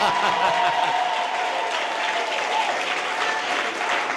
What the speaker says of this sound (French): Acclame Jésus bien fort là.